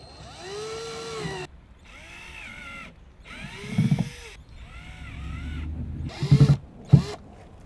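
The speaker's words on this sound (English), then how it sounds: "very easily I'm just going to go through and put some holes in the bottom" A power drill punching a series of drainage holes through the bottom of a flipped plastic bin, in short separate bursts of whining motor that ramp up and cut off, close and fairly quiet, with brief gaps between holes.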